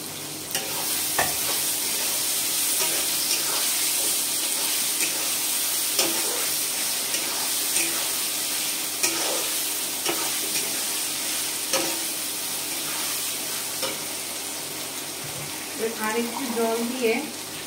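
Tomato, bay leaves, garam masala, cloves and garlic sizzle and fry in a pan for Bengali mutton kosha, with steady loud hissing and intermittent scraping stirs throughout and a brief bubbling burst near the end.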